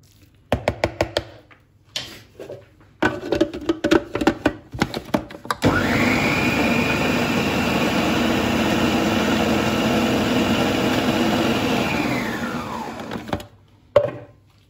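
A kitchen blender grinds a chicken shami kabab mixture: a few short pulsed bursts and knocks, then a long steady high whirring run that winds down, followed by a final thunk.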